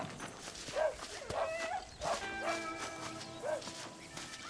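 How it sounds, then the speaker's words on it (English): Coyotes in the video game Red Dead Redemption give short, high yips and yelps, several separate calls at moderate distance over a quiet outdoor game ambience. "There's a couple coyotes there."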